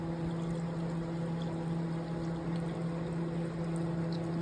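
Water pours steadily into a car engine's coolant reservoir, a continuous close trickling splash with a steady mechanical hum underneath and no speech.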